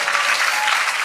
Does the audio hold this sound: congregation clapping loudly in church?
yes